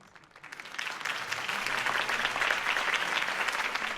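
A crowd in the video game Batman: The Telltale Series breaks into sustained applause, swelling quickly and holding as a dense wash of clapping.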